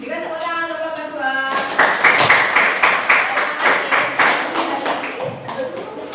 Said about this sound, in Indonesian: Berikan tepuk tangan untuk kelompok dua.